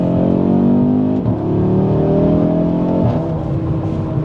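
A 2025 Audi RS3 engine pulls hard under acceleration, a loud, close roar rising in pitch through two gear changes with brief dips between them.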